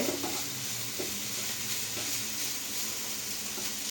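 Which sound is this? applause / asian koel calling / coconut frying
coconut frying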